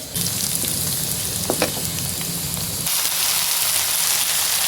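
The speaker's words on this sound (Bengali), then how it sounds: "এখন এটা তেলের সাথে খুব ভালোভাবে ভাজা ভাজা করবো।" Drumstick (moringa) leaves fry in hot oil with a steady, loud sizzle and crackle throughout, with a brief clatter early on; no voices.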